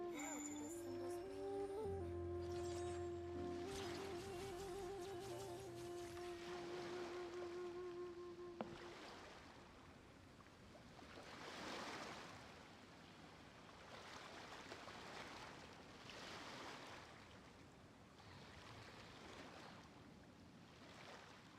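Ocean waves from the game Genshin Impact wash in as soft, broad swells recurring every few seconds, following a short melodic game music passage at the start.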